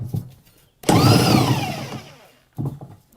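A power tool whirs loudly as it works the pulley off a large hover mower, a single sustained burst of just over a second that winds down, framed by brief quieter mechanical sounds before and after.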